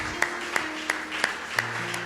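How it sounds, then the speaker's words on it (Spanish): A church congregation claps in slow, evenly spaced unison beats, about five or six strong claps spaced under a second apart, faint under a low hum of room sound. "Levantemos un fuerte aplauso al Señor."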